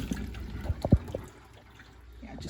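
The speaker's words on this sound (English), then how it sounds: "turn him upside down, empty all the water out." Water drains from a raw turkey turned upside down, a short burst of splashing drips and trickles, close and fairly quiet, then fading to a faint run-off.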